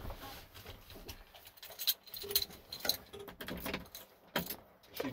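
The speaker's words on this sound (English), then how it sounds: "and it's raining." Steady rain patters and drips close by on top of a dam at night, with irregular sharp taps and splashes over a continuous wet hiss.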